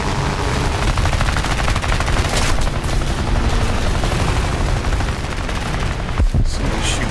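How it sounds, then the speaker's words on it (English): Machine gun fire in War Thunder air arcade play with an I-15bis biplane, heard as loud, continuous rapid bursts that stay dense throughout, with a sharper crack near the end. "Somebody's shooting at me."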